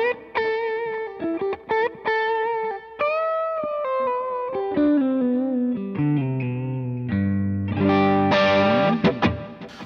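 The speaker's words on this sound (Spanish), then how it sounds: "Este preset JM realmente está inspirado un poquito como en esa onda blueserita, baladas." Electric guitar played through a Line 6 POD GO on a blues-ballad preset with two overdrives, soft delay and soft reverb, sounding as clean sustained single notes and chords with a thicker, driven phrase near the end.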